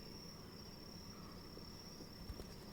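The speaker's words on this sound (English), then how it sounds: "I think you all are able to hear quite loudly the trilling of frogs." Trilling frogs in swamp ambience, a faint steady high chirring that runs throughout, with a few soft knocks near the end and no talking.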